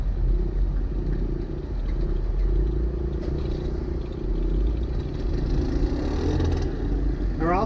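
Off-road vehicle engine in a steady low rumble with wheels spinning, droning continuously with clattering under it, fairly close and loud, without talk.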